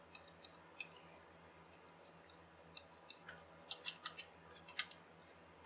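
Small screw being unscrewed from a Logitech Trackman trackball, heard as a series of faint, sharp clicks and ticks, sparse at first and then clustered, close up with no talking.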